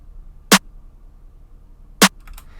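Trap snare and clap samples layered together in FL Studio: two crisp, punchy hits about one and a half seconds apart with a slightly fuller body, followed by a faint short tail of quieter ticks.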